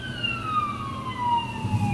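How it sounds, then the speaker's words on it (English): An ambulance siren passes by outside, a loud wailing tone gliding slowly downward in pitch over a low rumble of traffic, steady for about two seconds. "That sound is an ambulance driving by."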